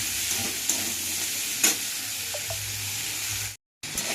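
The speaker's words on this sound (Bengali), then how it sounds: "এখন দেখো আলু আর বেগুনগুলো আমার ভালোভাবে ভাজা হয়ে গেছে।" Potatoes and eggplant fry in hot oil in a wok, a steady close sizzle with occasional stirring scrapes and a brief dropout near the end; no talking.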